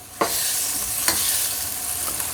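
Shrimp egg roll filling sizzles steadily as it browns in a pan, with a few sharp scrapes of stirring cutting through the frying hiss.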